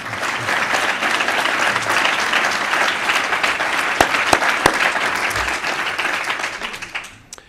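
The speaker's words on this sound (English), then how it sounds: "Yeah, they can have another applause." An audience at a university anniversary academic session in a ceremonial hall gives a full, steady round of applause after a performance, with a few louder individual claps before it fades out.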